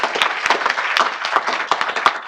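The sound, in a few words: round of applause for a coach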